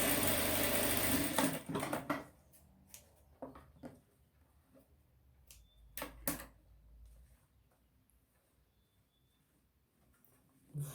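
A sewing machine runs loudly and steadily for about two seconds while stitching embroidered trim onto a cloth diaper, then falls quiet, leaving only sparse clicks and small handling noises.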